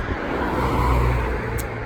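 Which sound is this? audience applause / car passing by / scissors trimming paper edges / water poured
car passing by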